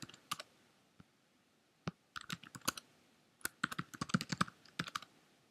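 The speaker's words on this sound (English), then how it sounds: "then you'll type in the ID and password that you set up previously" Fast bursts of computer keyboard typing, entering a login ID and password, with irregular clusters of close, crisp key clicks separated by short pauses.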